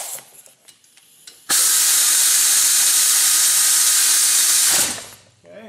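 An air tool whirs loudly for about three seconds while tightening brake bolts on a Volvo S80 in a garage, preceded by faint clanks and followed by a brief wind-down.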